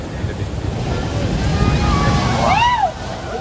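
Sea waves wash onto the Konkan shore in a constant close roar with wind buffeting the microphone, while people talk over it and a high whistle-like sweep rises near the end.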